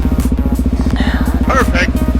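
Motorcycle engine while riding, a loud rapid pulsing thrum close to the rider throughout, with a voice speaking briefly over it.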